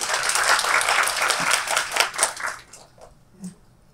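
Audience at a regional youth entrepreneurship conference applauding a presenter, a burst of clapping that fades out after about two and a half seconds, leaving a few scattered claps and quiet.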